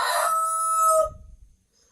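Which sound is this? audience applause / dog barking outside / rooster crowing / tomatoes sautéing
rooster crowing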